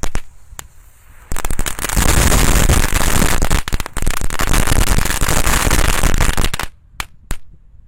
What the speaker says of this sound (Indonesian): Selanjutnya yang kita nyalakan di sini ada mercon telur dino pretek.